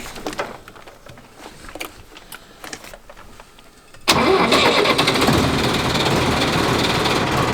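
A quiet stretch of scattered clicks and knocks on a cattle farm, then a tractor engine abruptly starts at about four seconds and settles into a loud, steady rumble as it warms up, continuing to the end.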